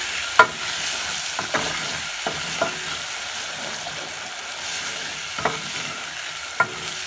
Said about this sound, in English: Go ahead and stir.